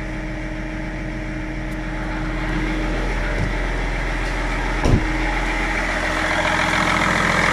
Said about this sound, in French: Et il y a un sale bruit dans le moteur.